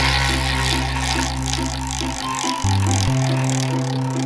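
A game wheel spun for a reading challenge, ticking in a fast rattling run that slows over a few seconds and clicks to a stop, close up with no talk.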